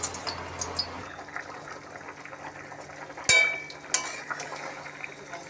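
A pot of curry bubbling on the stove, a low soft simmer with small irregular pops, broken by a couple of sharp close clinks of a utensil against the pot.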